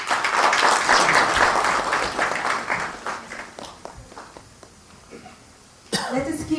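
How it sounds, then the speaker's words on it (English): A convocation audience claps loudly at first, the applause thinning into scattered claps and a cough or two before a voice abruptly cuts in at the end. "Let us keep clapping."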